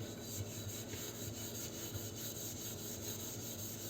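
Fine steel wire scrubs a burnt teapot in steady back-and-forth rubbing strokes, a quiet, rhythmic rasping that repeats several times a second, with no voices.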